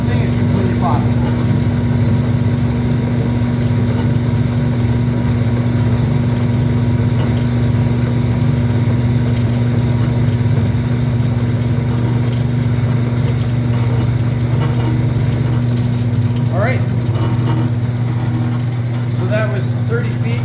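A BWS-80 HD industrial wire stripping machine feeding through 30 feet of wire, a loud steady motor hum with low droning tones, and faint rattling clicks near the end.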